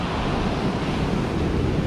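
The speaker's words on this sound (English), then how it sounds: "Some of those waves, when they break about 150 yards out, they're probably 7-8 feet tall still" Large ocean waves roll in and break on New Smyrna Beach in rough, heavy surf, making a steady loud wash of roaring water mixed with wind noise, and no voices are heard.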